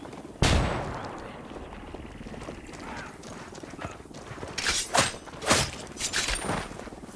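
In the video game Ghost Recon Wildlands, a flashbang goes off with a sharp close burst early on, followed by a run of further sharp cracks and bangs from the game later on.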